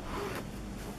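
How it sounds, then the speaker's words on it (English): A zipper on a shirt at a flea market gives one brief, faint rasping pull against a quiet background. "There's a shirt with a zipper."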